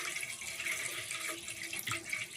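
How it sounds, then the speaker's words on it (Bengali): Water pours steadily into a cooking pot for making egg chicken fried rice, a faint, continuous splashing trickle heard close up with no talking. "এখন আমি জলটা দিয়ে দিলাম"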